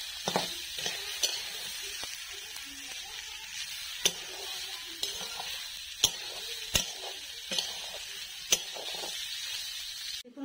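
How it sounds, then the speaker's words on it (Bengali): Boiled, sprouted khesari lentils being stirred in a pan, a steady faint sizzle with repeated sharp scraping clicks of the spoon against the metal at irregular intervals. "এই কলাইগুলো, সিদ্ধ করে রাখা কলাই। ভালো করে নেড়ে নেব।"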